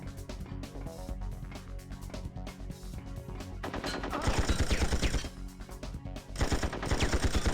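Gunfire in the 1999 video game 007: Tomorrow Never Dies: rapid bursts of shots over a constant game soundtrack, growing louder and denser toward the end, with no talk.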